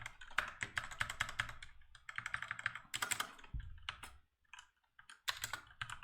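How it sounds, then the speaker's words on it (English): Rapid bursts of keystrokes on a small mechanical computer keyboard, clattering in uneven runs with brief pauses and a few louder thumps, close and clear with no talking. "It's a small mechanical keyboard"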